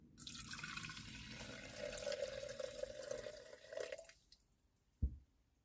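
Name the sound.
hot water poured into a Stanley French press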